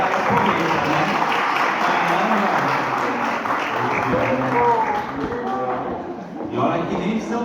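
Applause for a guest at a creativity event in Cotia: a full crowd clapping loudly and continuously, with cheering and shouting voices mixed in and tapering slightly near the end.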